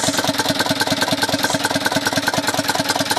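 An Isuzu Elf truck's 4HL1 diesel engine runs again after months idle with a faulty module and grounded wiring, idling close up with a steady, rapid knocking rhythm throughout.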